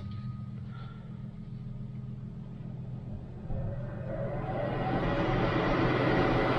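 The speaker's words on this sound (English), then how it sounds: "we can listen to that combustion motor" Harman pellet stove combustion motor starting up: a low steady hum and rumble that builds into a louder, broader whooshing whir, close by and with no talk.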